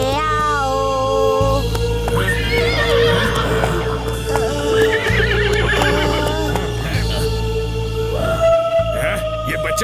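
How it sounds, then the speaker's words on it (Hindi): Cartoon horse whinnying in a village scene of Dholakpur from Chhota Bheem, rising neigh calls over a busy music and sound-effect bed, loud and close, with no clear clip-clop standing out. "आओ आओ घोड़े, ढोलकपुर में आओ।"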